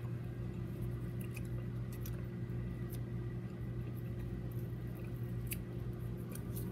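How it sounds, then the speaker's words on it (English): Scissors cutting electrical tape: a few faint, sparse snips and clicks over a steady low hum. "of course you need scissors"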